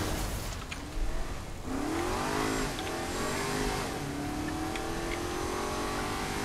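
A car in Saints Row: The Third cruising at constant speed on cruise control, a steady engine tone with sweeping pitch shifts, fairly quiet and with no talking.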